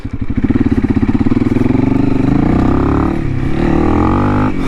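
A Honda CRF 300L dual-sport motorcycle with an ECU tune, its engine loud and close while riding, starting with a pulsing throb and then rising into a smoother, higher revving drone.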